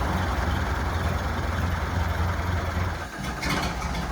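A 1931 Ford Model A pickup engine runs steadily with a low, even rumble, close up, holding a constant idle for the whole stretch with only a brief dip near the end.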